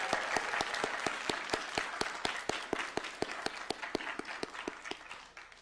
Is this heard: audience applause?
yes